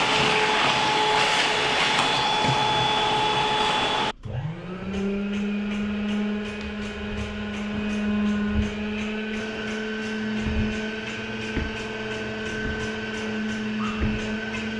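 An Aladdin residential light lift rated for 200 lb runs its motor while lowering, giving a steady close hum with a faint whine and a regular light ticking, preceded by a brief burst of broadband noise.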